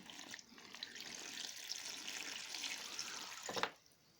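Ferric chloride solution for home bluing of an SKS rifle is poured into a container, giving a faint, steady splashing trickle that stops abruptly near the end.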